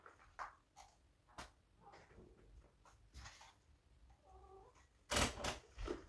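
An indoor house cat meows and caterwauls in a string of short calls, some drawn out, with a louder burst near the end over quiet household background and no talking.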